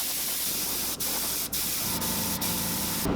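Aluminum spray paint hissing onto the head of a wooden lipless crankbait lure, a close, steady spray broken by three or four brief pauses.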